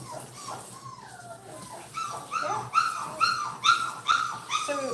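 A puppy whimpers and lets out a string of high yelps during a bath, growing louder and more rhythmic toward the end, close to the microphone.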